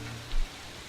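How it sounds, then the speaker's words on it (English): Steady rain falling in a video game, a soft even hiss of drops on a surface with one brief low thump, close and moderately loud, no voices. "this isn't the sort of rain you can just walk home in"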